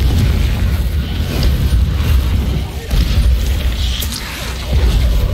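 A Confringo explosive spell blast in the Hogwarts Legacy video game, heard as a dense, loud rumbling boom with brief bursts and crackle layered over constant low-end game noise and voices.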